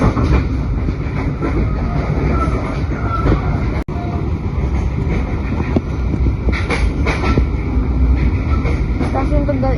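Brantas passenger train running on rails between Solo and Jakarta, heard from inside: a loud, constant rumble with rhythmic wheel clatter and rattling carriage noise throughout.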